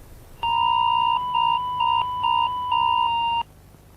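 An electronic emergency alert tone sounds alone: a steady, loud two-pitch beep pulsing in a regular broken rhythm for about three seconds, then cutting off.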